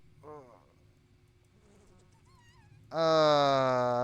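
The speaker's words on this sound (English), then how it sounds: "Countless flies flew out from the bucket. They're buzzing." A swarm of flies bursts out of a bucket in the horror video game Corpse Party, a sudden loud, sustained, close buzzing drone that comes in abruptly after a brief quiet stretch with faint voice sounds.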